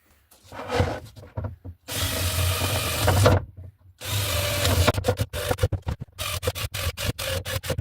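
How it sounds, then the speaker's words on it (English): A power drill bores into a wood panel in a van camper build in two sustained, loud bursts, followed by a series of short rapid drilling pulses and scraping. "I'm just going to take that off and drill it ready for fixing."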